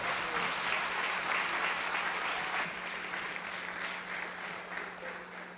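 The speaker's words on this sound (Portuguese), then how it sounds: "você aplaude a Jesus" Distant, steady applause from a church congregation during a sermon, a continuous wash of clapping heard faintly with a low hum beneath it.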